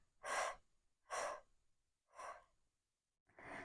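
Slow, deep breaths during a diaphragmatic breathing exercise, four distinct airy breaths about a second apart, close and fairly loud against silence, with no talking.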